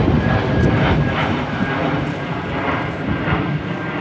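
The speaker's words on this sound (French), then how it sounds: "je vais laisser passer l'avion" Airplane passing overhead outdoors in a town, a loud broad engine roar that holds steady throughout with a slight swell, and no talk over it.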